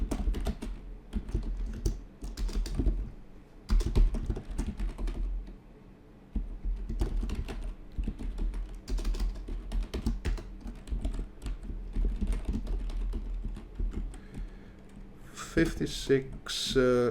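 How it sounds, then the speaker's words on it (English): Typing on a computer keyboard, with bursts of close, quick key clicks and short pauses, continuing under a person talking throughout and ending with a livelier flurry of sound. "I'm gonna type this out for you."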